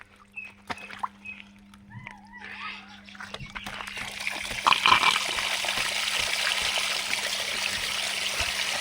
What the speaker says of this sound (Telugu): ఫ్రెండ్స్ ఈ బోరుగా నీళ్ళు పోతున్నాయి